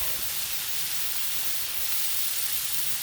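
Thick-cut smoked bacon sizzles on a Blackstone griddle, giving a steady, dense, close hiss that runs the whole time with no break.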